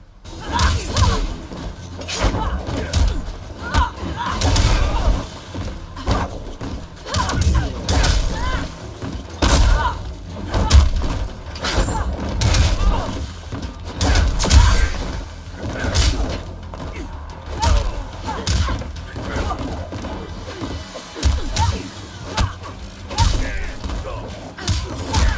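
Mortal Kombat X match between Sonya Blade and Kano, with a dense run of thuds, whacks, crashes and mechanical clanks from rapid combat blows, loud and continuous, mixed with brief voices and grunts.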